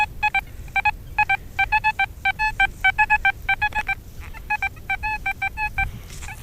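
An XP Deus metal detector sounds repeated short, high coin-like target beeps in quick rhythmic clusters during an outdoor hunt, over a low background rumble.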